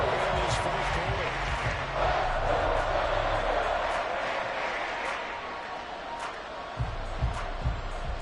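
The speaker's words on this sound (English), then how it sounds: "This crowd alive again." A stadium crowd roars steadily in an American football video game, a dense, loud wash of cheering that dips slightly and is briefly punctuated near the end.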